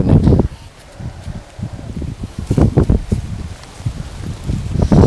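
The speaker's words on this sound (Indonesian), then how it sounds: "Iya, anginnya kencang ini, sahabat." Strong wind gusts outdoors, buffeting the microphone with loud, irregular rumbling bursts and rustling.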